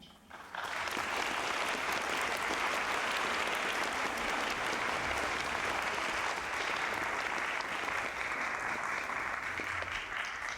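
An audience at a 2024 IHM graduation ceremony claps in sustained, even applause for a speaker, a steady wash of many hands that starts abruptly and fills the room for about ten seconds.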